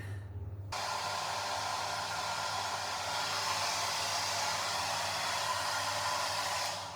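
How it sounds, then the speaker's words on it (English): A hair dryer blows steadily on hair in a hotel room, a loud, continuous whooshing airflow that starts abruptly after a brief quiet moment and runs unbroken to the end. "I'll first blow dry my hair, I guess."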